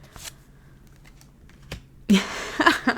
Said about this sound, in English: These guys saw me shuffling the cards.